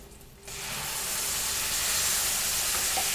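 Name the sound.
ground masala frying in a pan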